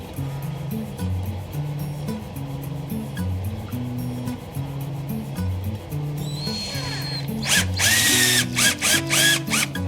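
A Ryobi power drill drives a construction screw into a wall, its motor whirring in short stepped bursts up close, ending in a few sharper, louder pulses as the screw seats.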